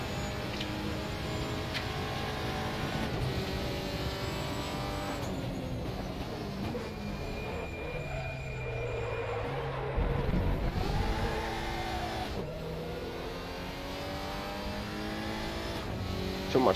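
Audi RS 3 LMS touring race car engine in the RaceRoom racing game, droning loudly and steadily throughout with revs rising and falling through corners and gear changes, a brief tire squeal, and no talking.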